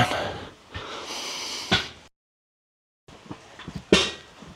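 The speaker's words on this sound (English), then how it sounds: "You can hear me breathing deeply." A man lifting a barbell during a leg workout breathes heavily and deeply close to the microphone, with loud rasping exhales, a short silent pause, then more strained snorting breaths.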